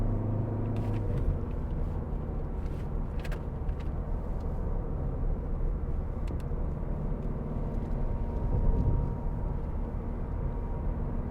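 A 2012 Ford Fiesta 1.4 TDCi diesel rolls over bumps and through bends, giving a steady, close cabin rumble of engine and road noise with faint knocks and thumps rising here and there, and no voices.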